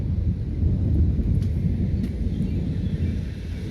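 Low rumbling thunder rolling after lightning in a small thunderstorm, a continuous deep murmur lasting a few seconds, moderately loud and distant-sounding, with faint wind noise.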